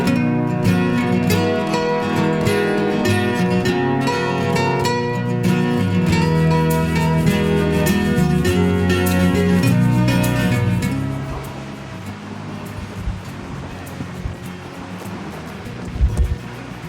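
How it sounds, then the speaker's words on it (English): Loud ocean surf crashes continuously onto the shore at Coffin Bay, a dense roaring wash that fills the foreground before easing somewhat near the end, with wind buffeting the microphone. "The waves are really loud."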